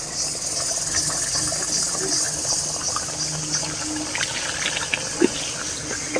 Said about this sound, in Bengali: দেখুন ঝোলের জলটা কিন্তু সুন্দর ফুটে গেছে, ঝোলটা বেশ ফুটে গেছে।